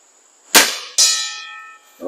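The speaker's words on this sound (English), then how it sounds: "let's see if we can hit that bell from here" Diana 34 .22 air rifle pellet striking a metal bell target at 60 yards: a loud, close shot followed by a bright ringing clang that decays, then another strike at the end.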